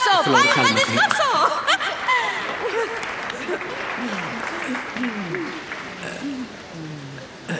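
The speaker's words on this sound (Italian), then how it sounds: "Un applauso enorme per lui!" Audience clapping breaks out among a crowd, mixed with chuckles, laughter and overlapping voices, loud at first and gradually easing off.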